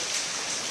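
Heavy rain falling at night, a steady, dense wash of hiss with no breaks or distinct drops, close and fairly quiet throughout.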